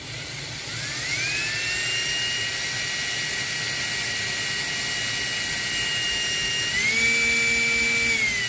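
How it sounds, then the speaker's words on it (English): A polishing bob spins against the end of a rifle muzzle to polish down machining marks, producing a steady high-pitched whine that holds for several seconds, then shifts pitch near the end, loud and close with no talk. "put the polishing bob on it, and we're going to spin it on the end of the muzzle to polish the machining marks down"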